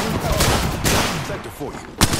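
Gunfire in the battle royale game Apex Legends rattles in close bursts, mixed with a speaking voice and other game sounds, with a sharp final shot near the end.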